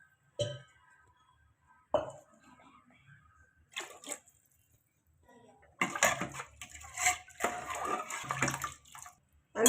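Water poured into a pot for khichdi: a few brief clinks and knocks with pauses, then a steady splashing pour lasting several seconds, fairly close.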